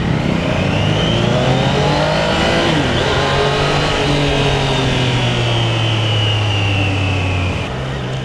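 A Triumph Daytona 660 sport bike pulls hard on the road, its engine loud and close with a steady roar that climbs and falls in pitch as the rider works through the revs, backed by strong wind noise.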